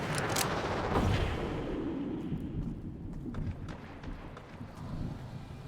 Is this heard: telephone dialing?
no